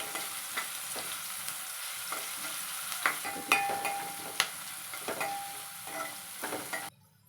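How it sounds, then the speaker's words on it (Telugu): Turmeric and ginger-garlic paste sizzling in a pan for a tomato omelette curry, a steady crackling fry with occasional stirring knocks, close and fairly quiet, ending abruptly near the end. "ఇందులో కాస్త పసుపు అల్లం వెల్లుల్లి పేస్ట్ వేసుకొని బాగా పచ్చివాసన పోయే వరకు ఉడికించుకోవాలి"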